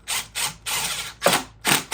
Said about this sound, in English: So I'm just going to zip this together so that the case can start drying.